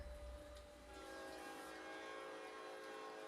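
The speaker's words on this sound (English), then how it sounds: "And there's the train." A passing train rumbles low and steady with faint rail clatter and a drawn-out tonal whistle or horn, heard from a distance without talk.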